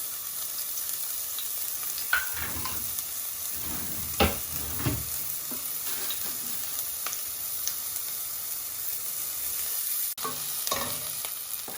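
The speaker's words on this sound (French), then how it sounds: "une grande cuillère d'huile d'olive dans notre poêle" Shallot and rice fry gently in olive oil in a pan over low heat, a steady soft sizzle with a few sharp stirring scrapes and clinks standing out.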